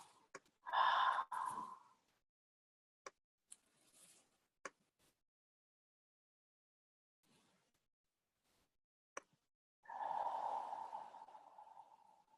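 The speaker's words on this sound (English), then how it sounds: "Take a nice long in-breath once again. And exhale." A long, slow breath is drawn in and then released in a soft, airy exhale, with a few faint clicks and quiet pauses between; near and gentle, no talking.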